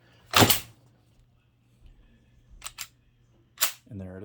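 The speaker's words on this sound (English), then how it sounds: "We're gonna put the mag in there," A magazine is pushed into a pistol held on a magnetic mount, giving a sharp close metallic click followed by a couple of lighter clicks and handling knocks, with a brief voice starting at the end.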